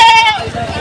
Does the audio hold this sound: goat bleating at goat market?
yes